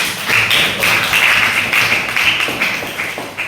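Students in a high school classroom clap their hands together, a dense, steady patter of many palms close by that runs throughout, with a few louder individual claps standing out.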